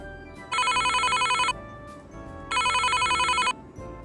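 A telephone rings in two long bursts with a pause between them, as a ringback tone during an outgoing call for a mother's birthday celebration. The rings are clear and close, with a faint background hum between them.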